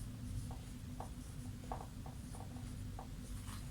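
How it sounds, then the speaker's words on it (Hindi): Handwriting during a maths lesson on matrices; a pen scratches and taps faintly in short strokes over a low background hum, with no talking. "ये वाला, तो हम यहाँ पे लिखेंगे"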